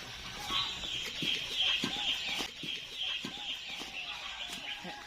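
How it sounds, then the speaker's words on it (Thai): Semi-free-range chickens clucking nearby in a longan orchard, a steady, irregular chatter with short bursts repeating over a constant outdoor hiss of insects or ambience. "นี่จะเป็นไก่เนาะ ไก่เขาเอาเลี้ยงแบบ กึ่งธรรมชาตินะครับ"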